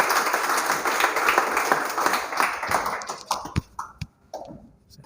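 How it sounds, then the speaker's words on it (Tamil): An audience in a hall at the Idhayam oil factory in Virudhunagar applauds to welcome a manager, a dense burst of clapping that thins into scattered, fading claps. "ஒரு நல்ல ஒரு கைத்தட்டு போட்டு அவரை வெல்கம் பண்ணுங்க."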